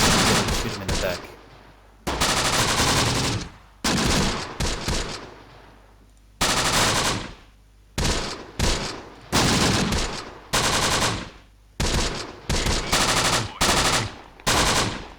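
Gunfire from soldiers in the Close Combat war game: loud, dense bursts of machine-gun and rifle fire come in repeated volleys, broken by short pauses, with the shooting filling most of the stretch.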